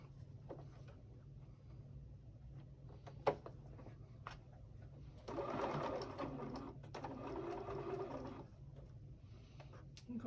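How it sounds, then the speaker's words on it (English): A home sewing machine runs in a steady mechanical burst, top stitching a Christmas pouch, preceded by quiet handling clicks and a sharp tap, fairly close but soft overall. "Now we're just going to top stitch that."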